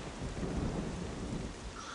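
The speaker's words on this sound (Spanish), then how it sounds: "Pues abajo la lluvia." Rain falls steadily and deep thunder rumbles in The Legend of Zelda: The Wind Waker, a dense, continuous storm wash with a heavy low roll peaking midway.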